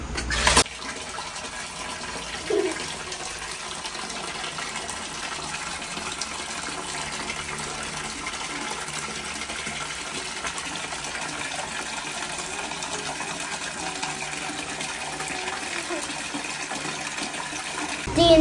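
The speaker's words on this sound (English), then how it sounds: "We can play rubber ducks on running water like this." Steady running water pours continuously, a broad even rush with a couple of small clicks or splashes, no voices.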